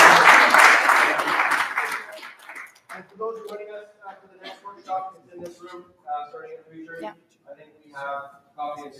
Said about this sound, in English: But let's get a round of applause from everyone.